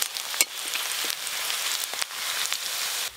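Onion, garlic, green chili and black cumin frying in mustard oil, a steady close sizzle with brief stirring clicks and scrapes, no voices.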